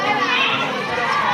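Children playing and chattering, a dense mix of overlapping young voices in a busy, crowded setting, continuous and moderately loud throughout the short moment.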